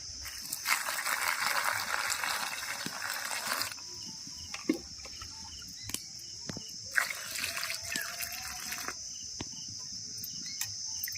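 Eggplants are rinsed by hand in water, with two stretches of splashing and sloshing and a few scattered drips and knocks in between. Crickets chirp steadily in the background throughout.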